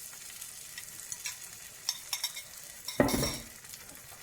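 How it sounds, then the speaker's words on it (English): An egg dropped into a hot pan beside melting cheese and sausage gravy, with a burst of sizzling at the moment it lands after some quiet stirring and utensil clinks, close and fairly loud. "and I'm going to add my egg."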